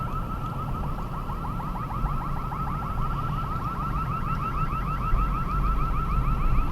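Store alarm going off behind a building, a steady repeating electronic warble that holds loud and constant throughout, with the same chirping pattern looping over a low background rumble.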